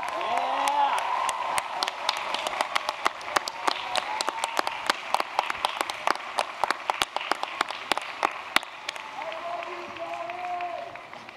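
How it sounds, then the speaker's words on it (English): A large commencement crowd at a 2017 Wake Forest University graduation breaks into applause, a broad roar of clapping with sharp individual claps standing out close by, tapering off as a voice returns over the sound system near the end. "show your appreciation for their support with your applause"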